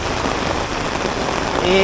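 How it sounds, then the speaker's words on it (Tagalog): Heavy, steady rain pours down onto surfaces beside an expressway during a typhoon in flooded conditions, a dense unbroken hiss filling the whole stretch, with a faint tonal hum rising near the end. "Tuloy-tuloy pa rin yung ulan, oh."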